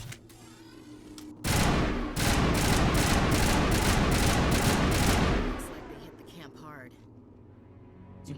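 Rapid automatic rifle fire from a Mass Effect game bursts in loud and dense for about four seconds, then stops, with a brief lull and trailing rumble after.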